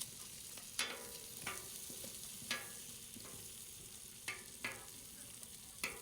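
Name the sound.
crappie fillets pan-searing in butter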